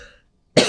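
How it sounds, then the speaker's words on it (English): A single sharp cough bursts in abruptly after a short silence, close and loud, preceded by a faint trailing bit of voice. "I got a little bit of a cough going this morning"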